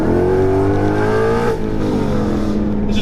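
A car fitted with Texas Speed headers and a Corsa exhaust revs hard through a full first-gear wheelspin from about 4,000 rpm, the engine note climbing loud and close before dropping off.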